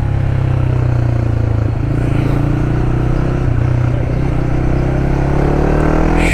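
A Honda CBR motorcycle's exhaust holds a loud, close, steady engine drone with a slight rise in pitch toward the end. No one speaks.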